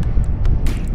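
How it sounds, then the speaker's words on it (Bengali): Strong wind blows across an open sea beach at sunset, buffeting the microphone with a loud, low rumble and a few brief gusty bursts. "দারুণ হাওয়া দিচ্ছে"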